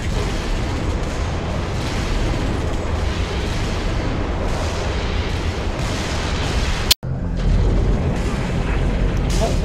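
Artillery fire in the Halo: Reach campaign, a continuous loud rumble of distant booms with one sharp close blast near the end, set under game noise.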